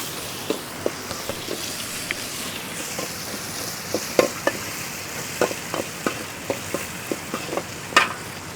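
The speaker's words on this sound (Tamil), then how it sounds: "இதுலேயே வந்து லைட்டாக நான் வெந்தயம் போடுறேன் வெந்தயம் போட்டு அதிலே வறுத்துக்கணும்" Fenugreek seeds fry in a pan with a steady hiss of sizzling oil, punctuated by sharp, irregular clicks and taps as a spoon or spatula stirs and scrapes the pan, with no talking.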